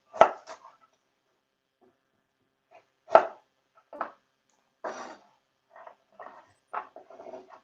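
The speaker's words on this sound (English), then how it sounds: "So peel a carrot, half it, then we're going to just julienne it. So finely slice." A knife julienning a peeled, halved carrot into fine matchsticks, giving sparse, crisp taps on a cutting board, close and clear, with irregular gaps and no voices.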